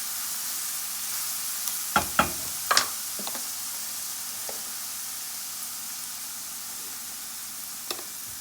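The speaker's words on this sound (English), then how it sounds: "Let the onion and the garlic infuse in the oil." Onion and garlic sizzle in oil in a pan, a steady hissing fry close by with a few sharp taps of a utensil against the pan, no voices.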